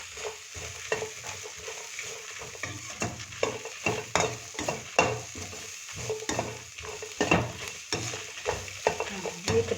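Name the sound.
chicken frying in pan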